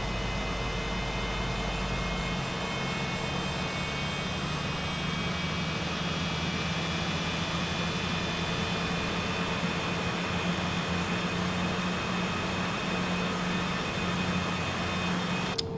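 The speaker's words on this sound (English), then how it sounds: "Hear some of that engine startup sound." A Citation CJ4 business jet in Microsoft Flight Simulator 2020 spools up its engines at startup, producing a steady, loud turbine whine and roar with a constant hum.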